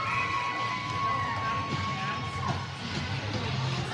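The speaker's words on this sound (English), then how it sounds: "And the crowd goes wild." At a high school hockey game on senior night, a rink crowd cheers and shouts loudly and continuously, with children's voices and whoops mixed in.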